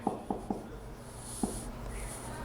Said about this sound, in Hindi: एक क्वेश्चन और है लिमिट का, इसको लिखते हैं।